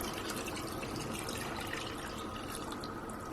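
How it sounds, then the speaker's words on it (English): Water poured into a pot of chicken rice, a steady splashing, gurgling pour heard close and fairly loud throughout, ending abruptly. "It's now time for the water to go in."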